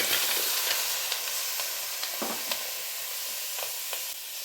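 Dry chillies, green chillies, garlic and onion frying together in about half a spoon of oil for a village-style chutney, a dense continuous sizzle and hiss with sharp pops and crackles, close up with no talk.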